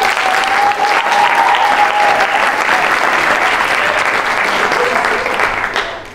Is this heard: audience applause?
yes